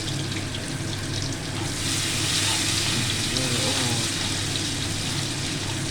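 Crushed ginger, garlic and green chilies fry in a pan of oil with a steady, close, bubbling sizzle and hiss that keeps an even level throughout.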